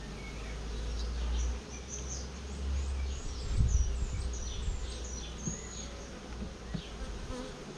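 Honey bees buzz around an opened hive while frames are moved, a dense continuous hum with individual bees zipping close past, plus low handling thumps and rumble.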